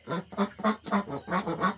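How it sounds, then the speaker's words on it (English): Ducks quack inside a backyard coop at day's end, seven or so nasal calls in quick, uneven succession, close by and fairly clear against a quiet background. "So the ducks have made their way into the coop."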